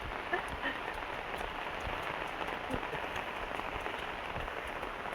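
Steady rain falls near a river, a dense continuous hiss of drops with faint scattered patters, moderate in level and unbroken throughout.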